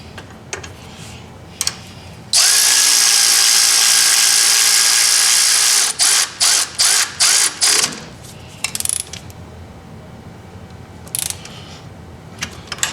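A ratchet cinches down a nylon lock nut while installing a spring on a 2018 Polaris Sportsman 570 EPI ATV: a long, loud continuous whir, then a run of quick separate ratcheting bursts, close up with no talk.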